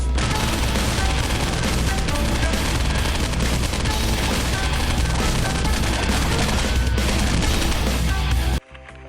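Relentless gunfire from Habib's Power Station, a doubled-gun weapon in the video game Postal 2, pours out as a loud, unbroken barrage of rapid shots and booms, then cuts off abruptly near the end, with no talking.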